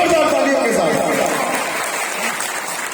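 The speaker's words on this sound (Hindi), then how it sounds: "जोरदार तालियों के साथ।" Audience at a business meeting breaks into loud, dense applause, many hands clapping together close by, slowly fading, with a voice briefly heard at the start.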